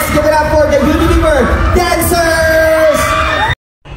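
A crowd at a Puregold Sari Sari store convention yells, whoops and cheers loudly and steadily for the Unilever Dancers, then the noise cuts off abruptly near the end.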